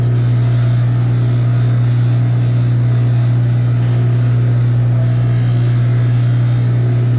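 A soft lapidary cutting wheel at a club workshop grinds a large peridot gem, giving a steady, loud motor hum with a constant low drone and faint gritty hiss throughout, no talking.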